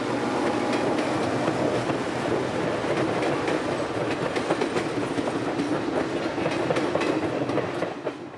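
A TVRM heritage train rolls past near Chattanooga, giving a steady, loud rumble of wheels with rhythmic clickety-clack over the rails that holds throughout and eases slightly at the end.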